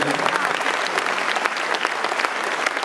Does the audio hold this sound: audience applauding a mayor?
yes